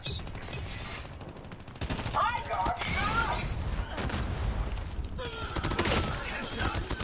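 Rapid bursts of gunfire and shotgun blasts from the mobile shooter Call of Duty Mobile crackle in dense volleys, loud and near, with excited talk running over the shooting.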